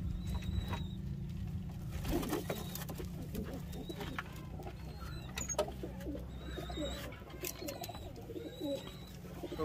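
Pigeons coo softly in low, repeated murmurs, with scattered fluttering and shuffling noises around them.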